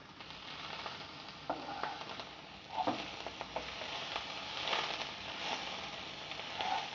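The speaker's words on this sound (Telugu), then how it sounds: "ఇప్పుడు దీన్ని ఈ నూనెలో కాసేపు మగ్గనివ్వాలి" Coriander leaves and stems wilting in hot oil for a pickle give off a soft continuous sizzle close by, with occasional stirring scrapes and taps.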